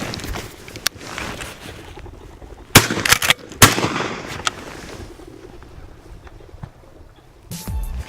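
Shotgun blasts ring out while bird hunting: a few sharp, loud reports, two close together in the middle, plus fainter distant pops, over open outdoor background noise.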